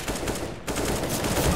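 A gunshot from a rifle in Counter-Strike on the Dust2 map, a brief burst of sharp gunfire over a noisy game background with a short gap mid-burst.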